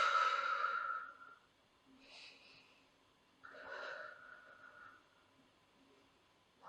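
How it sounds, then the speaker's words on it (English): Slow, audible exhalations during a yoga back stretch with the arms down on the ground: a strong breath out at the start, then two softer, breathy puffs, close and quiet in a calm room with no talk. "Breathe out."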